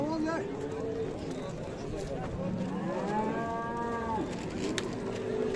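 Cattle, including young bulls and cows, at the livestock bazaar in Osh, with several long moos rising and falling amid a busy, constant market din and people talking nearby.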